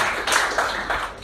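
Small audience at a blockchain data talk clapping for a speaker, a brief, close patter of a few hands clapping in uneven bursts, with no talk.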